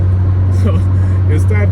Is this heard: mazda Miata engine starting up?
yes